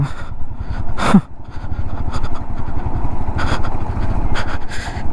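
A Royal Enfield Himalayan motorcycle rides a rough road, its engine thumping steadily up close with a brief louder rev near the start and rattles from the bumpy surface throughout.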